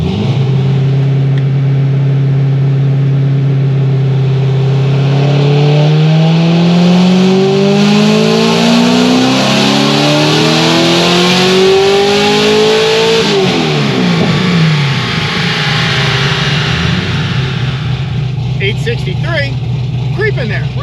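A supercharged Stage 5 C6 Corvette Z06 on a dyno winds up in one long, loud pull, its engine and supercharger whine climbing steadily in pitch before the throttle closes and it coasts down.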